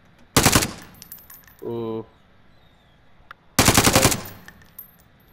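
A DMR rifle fires on test in a video game with two short, loud bursts of rapid shots about three seconds apart. A brief tonal game sound comes between them and one voice exclaims faintly.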